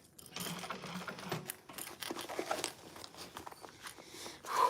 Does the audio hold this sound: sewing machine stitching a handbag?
yes